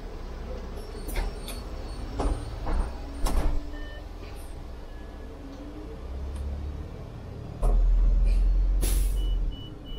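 A Paris city bus on route 25 rumbles along with sharp hisses of air brakes and door noises, plus a louder low surge as it pulls away, while people chat faintly nearby.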